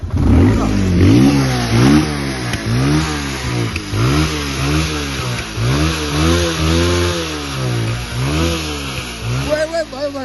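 A small-engine motorcycle with a faulty, smoking engine revs repeatedly, each throttle blip rising and falling in a steady rhythmic pattern, loud and close.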